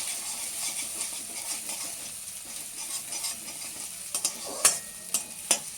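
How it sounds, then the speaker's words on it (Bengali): An egg stirred in hot oil sizzles and fries steadily, with a few sharp clinks of a utensil against the pan toward the end; no voices. "ডিমটা দিয়ে ভালো করে আমরা একটু নাড়াচাড়া করে নেবো তেলের মধ্যে কিছুক্ষণ"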